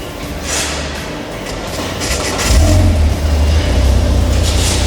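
A Porsche 944 engine catches and settles into a steady low idle after a fuel pump fuse fault is fixed, its rumble rising partway through and running loud and close to the end.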